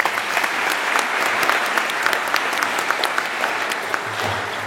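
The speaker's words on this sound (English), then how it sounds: "Thank you for that round of applause" An audience at a Rotary award ceremony for a rural fire commissioner gives a sustained round of applause, the crowded clapping holding steady and lively throughout with scattered sharper claps standing out.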